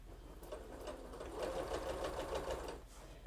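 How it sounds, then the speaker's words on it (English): A sewing machine stitches quilt blocks for a Triple Irish Chain quilt, a steady close mechanical whir that builds slightly and then slows near the end, with no talking over it. "we're going to go ahead and sew one of these together, or begin to."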